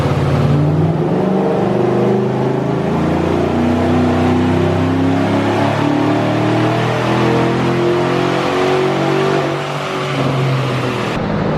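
Chevrolet Silverado daily-driver truck engine held at sustained high revs on a chassis dyno, a loud, steady, continuous roar with layered harmonic tones that barely waver, cutting briefly near the end before resuming.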